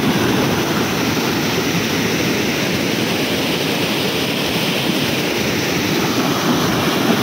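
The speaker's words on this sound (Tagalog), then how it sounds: "Ay, grabeng ilog, oh." A powerful river rushing past, a dense, steady roar of water close by, continuous and loud with no voices over it.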